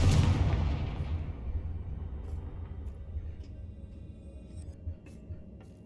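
A Confringo blast spell cast in Hogwarts Legacy, a single loud explosive boom at the start that fades into a long low rumbling tail.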